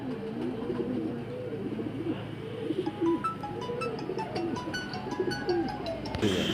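Teddy pigeons at a loft in Murshidabad coo in soft, repeated rolling calls, fairly close, with faint background voices and occasional higher chirps.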